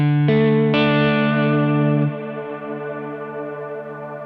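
A Strymon Blue Sky reverb pedal on electric guitar with delay stacked on, a loud sustained chord rung out and restruck, then decaying into a washy, echoing tail.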